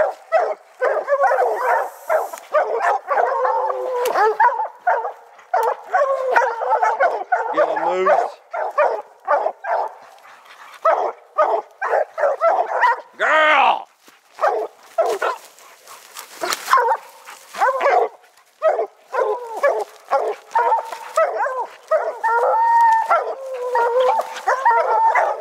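Hunting dogs bark and bay excitedly at a bear in a rapid, continuous chorus, close by, with occasional yips and whines and a voice calling briefly.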